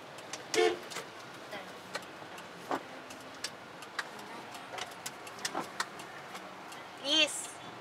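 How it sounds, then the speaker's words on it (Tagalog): Car horns in traffic, heard from inside a vehicle: one short honk near the start and a longer, louder blast near the end, with scattered faint clicks and road noise between. "ano ba naman yung busina mo?"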